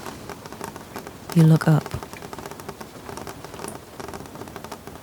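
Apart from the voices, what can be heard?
rain falling against a window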